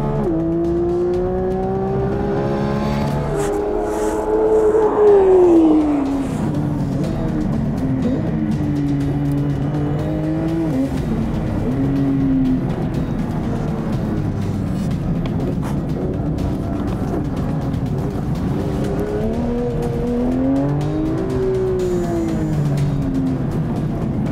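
A race car on a timed lap, its engine droning loudly and continuously, revving up and dropping in pitch through gear changes and corners, heard from inside the car.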